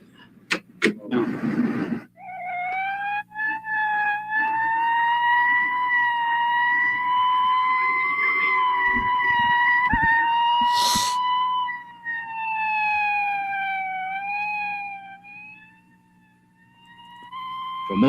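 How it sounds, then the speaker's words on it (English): An emergency vehicle siren wails steadily and loudly for most of the clip, its pitch rising and falling slowly, after a short burst of rough noise at the start and with a few brief clicks along the way. "the urgent sound of an emergency vehicle is just a noise we hear in the distance"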